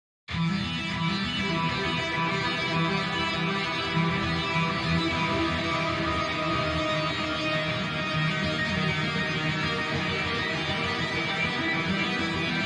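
A dense, bright synth-guitar tone from Neural DSP's Archetype: Rabea plugin (Overlord synth) plays continuously, rapid arpeggiated notes churning under a thick, buzzy wash without pause.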